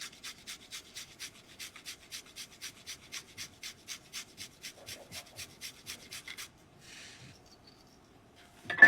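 Garlic grated by hand in a steady rhythm of about twenty quick rasping strokes, close and crisp, then slowing into softer scraping before a sharp clatter at the end; no speech.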